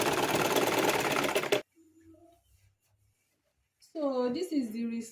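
Sewing machine stitching fabric for an umbrella-style skirt, a dense loud mechanical whirr that runs for about a second and a half and then stops abruptly, followed by near silence and then someone talking.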